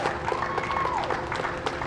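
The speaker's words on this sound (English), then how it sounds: "Small crowd, but big cheers." A small crowd cheers and applauds NASA astronauts Bob Behnken and Doug Hurley as they walk out, a steady wash of clapping and shouts at moderate distance, with a whistle rising and falling partway through.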